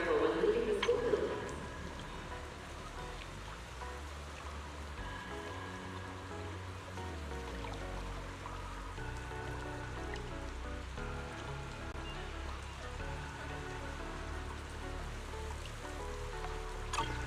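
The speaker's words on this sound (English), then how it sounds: "it is currently raining outside" Rain falls steadily outdoors in the video game Zenless Zone Zero, a soft continuous patter under quiet background music, with a brief louder burst at the start.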